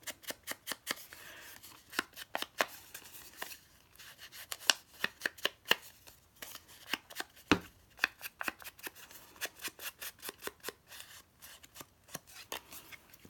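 Dense, rapid scraping and dabbing of an ink pad against the edges of craft paper, a quick irregular series of sharp papery strokes close up, with no talking.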